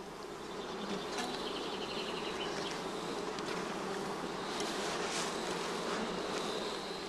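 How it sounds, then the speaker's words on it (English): Dense, continuous buzzing of many honeybees around straw skep hives on a heathland apiary in northern Lower Saxony, close and steady with no voices, individual bees flitting past now and then. "The bees are busy feeding their brood."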